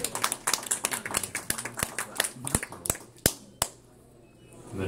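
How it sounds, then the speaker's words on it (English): A small poetry-reading audience in Ann Arbor claps for a graduating clarinet performance student, a quick run of sharp hand claps that thins out toward the end and leaves a near-silent pause. "So I'm just gonna clap."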